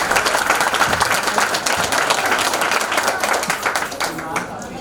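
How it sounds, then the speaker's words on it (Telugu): An audience claps at an International Women's Day event held at Ravindra Bharathi and organised by blind employees, dense sustained applause from a crowd nearby, with voices mixed in, fading slightly at the end. "వారి అందరికీ కూడా మనం చప్పట్లతో ఆహ్వానము ధన్యవాదాలు చెప్తాం."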